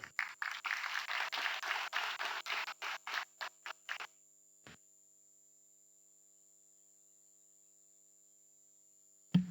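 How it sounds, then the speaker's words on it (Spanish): Applause welcomes the speaker at the opening of a cooperative legislation diploma course: a small group claps briskly at close range, the claps thin to a few scattered ones and stop, and faint electrical hum continues into silence. "Con un fuerte aplauso recibimos al disertante."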